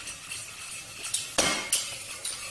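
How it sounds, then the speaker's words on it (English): A balloon whisk clinks and taps lightly against a pan as a sauce with melting butter is whisked, quiet scraping punctuated by several sharp metallic ticks. "using a balloon whisk."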